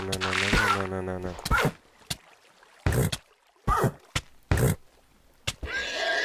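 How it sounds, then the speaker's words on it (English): Horse whinnying in Minecraft, a single drawn-out neigh with a clear pitched, wavering tone at the start, followed by scattered short game sound effects and brief gaps of quiet. "Ah, that was Mir the horse."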